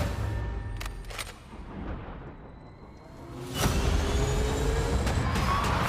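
A race car at full throttle, a near roaring engine rising and sweeping past with whooshing surges, loud and continuous through the end.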